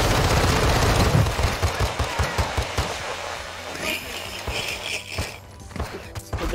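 Rapid bursts of automatic gunfire from Call of Duty Warzone crackle loudly and steadily, the shots coming in fast rhythmic strings with a faint voice briefly underneath.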